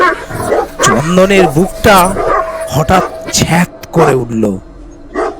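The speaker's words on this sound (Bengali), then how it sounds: "ঘেউ ঘেউ করে ডেকে উঠল।" A pack of street dogs barks in bursts at night, loud and repeated, under a voice narrating a story.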